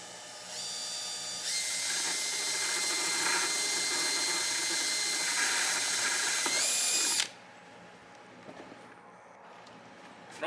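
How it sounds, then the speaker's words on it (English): A power drill bores a hole through a thin plastic container being made into a Purple Martin house, a steady high whine held for several seconds with slight pitch shifts, then stopping abruptly into quiet handling sounds. "Normally it doesn't take that long to drill through thin plastic"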